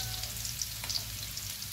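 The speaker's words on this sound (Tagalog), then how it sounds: "maglagay na natin tayo ng bawang sa ating lulutuin ngayon" Chopped garlic frying in a pan as the base for Filipino pork adobo, a steady close sizzle with faint crackles and light stirring, quiet and without talk.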